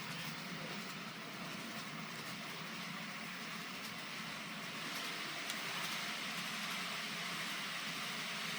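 Model railway layout with ten trains running at once under automated control, including one climbing a helix; a steady, moderately faint rolling hum and rattle of small wheels on track continues throughout with no voices.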